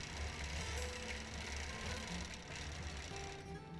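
A sewing machine stitches free-motion quilting along a row of a custom quilt, a steady, fairly quiet mechanical whir running continuously without pause.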